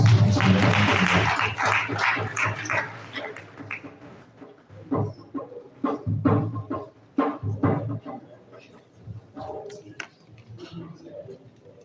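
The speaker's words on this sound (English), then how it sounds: "A round of applause for him." An audience claps at the unveiling ceremony for a professor's bust in Zaria. The applause is strong at first, then thins into scattered claps with gaps between them and fades out.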